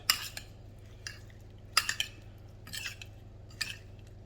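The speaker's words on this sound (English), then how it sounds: "I'll put the peppers in there, give them a bit of a stir around" Light scraping and clinking of a utensil stirring peppers in a pan, a few separate bursts over a low steady hum.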